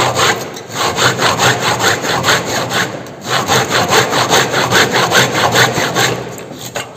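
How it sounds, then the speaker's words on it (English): A hand saw cuts a workpiece clamped in a bench vise during a college workshop practical, with loud, close, steady back-and-forth strokes in an even rhythm. "You have to go smoothly, and it will cut the workpiece."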